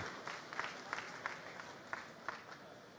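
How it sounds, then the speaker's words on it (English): A crowd applauds at a rally season launch for the Hyundai i20 WRC car at an Autosport International show, a soft, fairly distant wash of clapping with a few sharper claps standing out. "Round of applause, everybody."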